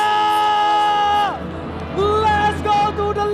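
Large arena crowd at a Mobile Legends esports grand final cheering and shouting loudly, with whoops rising after a held musical tone fades, sustained roar throughout.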